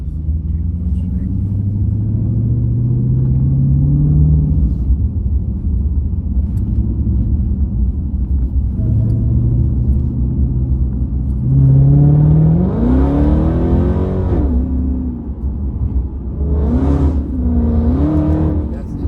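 A Dodge Charger Hellcat pulls hard under acceleration, its engine note rising in loud, sweeping revs that climb, drop and surge again, with people talking over the roar inside the cabin.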